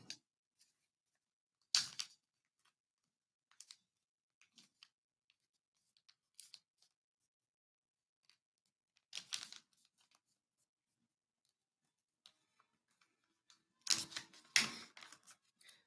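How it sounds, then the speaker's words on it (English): Paper is folded in half and then in half again, giving scattered crisp rustles and creases with long quiet gaps, close and fairly soft, with no voices. "I'm going to fold it in half. And I'm going to fold it in half again."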